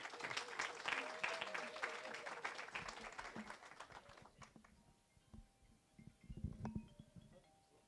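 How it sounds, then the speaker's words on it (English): Audience applause at a graduation ceremony, dense clapping for the first few seconds that thins into scattered claps, shuffling and footsteps, with voices mixed in. "Let's give a round of applause for Ms. Chetfield"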